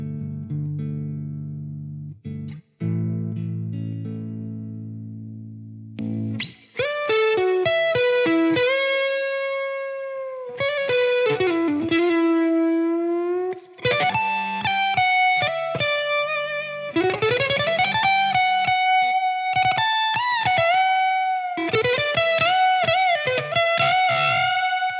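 Electric guitar played through a Dirt Monger Instruments Green Slaad drive pedal: a quiet clean opening, then a run of articulate picked lead phrases with soft compression and edge-of-breakup grit, loud and continuous, with no talking.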